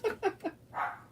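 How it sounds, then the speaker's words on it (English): A pet dog named Marley barks three quick times close by, then gives a longer, whinier bark. "Marley, stop barking."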